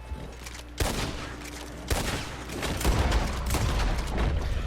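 Gunfire in the online Western game Red Dead Online, several sharp shots cracking out in quick irregular bursts followed by a dense rattling volley, loud and close.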